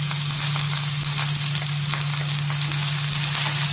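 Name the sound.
chopped ginger and green chillies frying in hot oil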